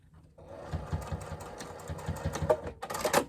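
A sewing machine bastes the strap of a crossbody bag, its needle running in a steady mechanical whir that picks up speed toward the end.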